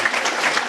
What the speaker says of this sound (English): We're going to go ahead and give them a round of applause for everybody.